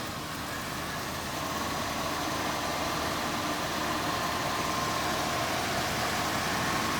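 The 351 Cleveland V8 of a 1970 Ford Mustang Mach 1 settles into a steady, smooth idle on a cold day, a constant low rumble with broad noise and no talking.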